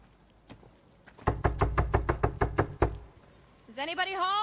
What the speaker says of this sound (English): Who's that knocking at the window?